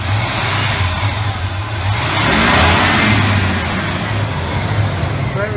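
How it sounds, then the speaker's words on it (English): A 1978 Chevy Cheyenne pickup with 94,000 original miles, its engine idling loudly up close, then rising briefly as the throttle is blipped before settling back to a steady idle. "I'm gonna give a little gas for you."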